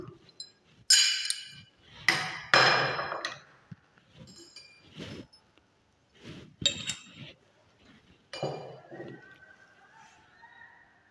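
A glass rod and a conductivity cell clink and knock against laboratory glassware holding hydrochloric acid solution during a conductometric titration. Irregular close taps, scrapes and ringing pings come in several bursts with quiet gaps between them.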